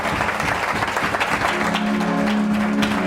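A church congregation applauds steadily and loudly, a dense wash of clapping with a faint tonal hum beneath it and no voices standing out.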